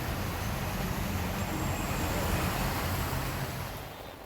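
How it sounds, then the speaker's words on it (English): Cars pushing through a deeply flooded road in Lagos, a loud continuous rush and churn of water with engine rumble, close and steady before easing slightly at the end. "Cars are really struggling to pass through this sea of a road"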